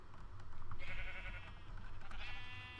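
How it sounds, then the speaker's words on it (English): Two drawn-out sheep bleats from a Minecraft sheep farm, a game sound with harmonic, wavering tones, each lasting about a second, over a steady low hum. "Then we have the sheep farm"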